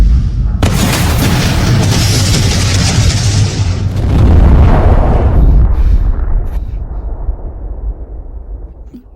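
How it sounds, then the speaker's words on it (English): A big firecracker goes off with a loud, close boom, followed by several seconds of roaring, crackling rumble that slowly dies away, with no voices. "I'm gonna set off a big firecracker for you."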